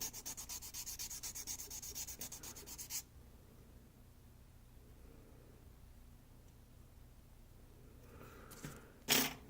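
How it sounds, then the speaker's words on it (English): Close, fine scratchy rubbing of sandpaper on a small wooden toothpick to sharpen its tip for detailing a plastic model kit, in quick rhythmic strokes for about three seconds, then quiet, then a brief louder burst near the end. "what you can do is you can sand it down a little bit to a finer tip."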